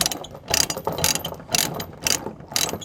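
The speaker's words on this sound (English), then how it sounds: "I like these ratchet style binders" Ratchet-style chain binders being tightened to tie a tractor down on a trailer: rapid, loud metallic ratcheting clicks in repeated bursts about every half second, close up and with no voices.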